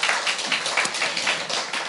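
A live audience at a science talk concert claps together in a short, brisk burst of applause, close and fairly loud, with no talking over it.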